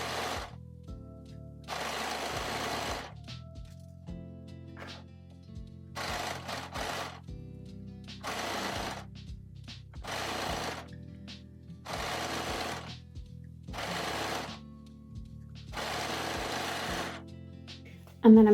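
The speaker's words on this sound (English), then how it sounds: "carefully sew around the edge" A sewing machine stitches around a dress neckline in a series of short, rhythmic bursts of whirring, each a second or so long with pauses between, fairly close and steady in loudness.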